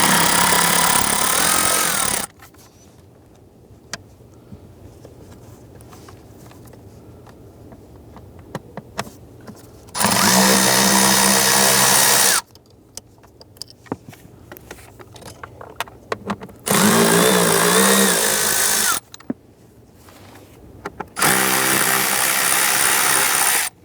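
A power tool spins out 8mm blower motor screws on a 2005-2007 Chrysler 300 in three or four loud, steady whirring bursts a few seconds long, close by, with quiet clicks and fumbling between runs.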